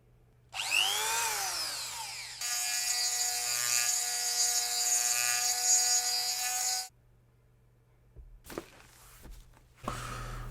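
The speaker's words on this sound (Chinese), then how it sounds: "刚才你可以看到我打磨过程，第一次使用这个打磨机还是非常有意思的" Power grinder cutting and sanding a GoPro frame: a rising whine as the motor spins up, then a sustained loud buzzing grind, a pause, and short bursts of contact noise.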